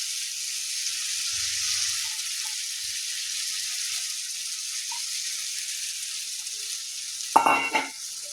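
Egg gravy with whisked yogurt fries on low heat in a pan, a steady soft sizzle running throughout, with a brief louder scrape and clatter of stirring near the end.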